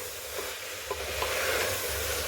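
Chana dal ingredients sauté in a hot pan with a steady close sizzle and a few soft stirring scrapes, brief and alone with no voices.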